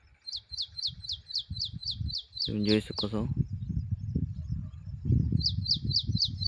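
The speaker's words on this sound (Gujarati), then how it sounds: "મસ્ત ચકલી પણ બોલે છે" A sparrow chirps in a quick, regular series of bright, high notes, pausing midway and then resuming, while a person talks steadily underneath.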